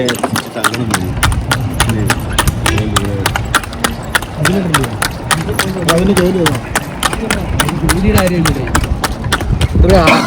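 Horse hooves clip-clop in a steady trotting rhythm, close and sharp, with people talking throughout.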